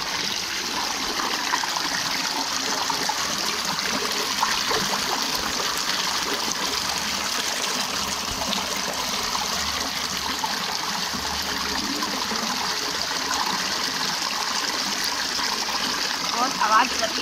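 River water flows steadily in a quiet, remote area as a continuous rushing, trickling wash heard up close. It stays at an even, fairly loud level for the whole stretch.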